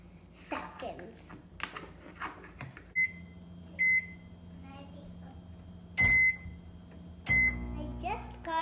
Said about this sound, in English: And then put it in the microwave for 40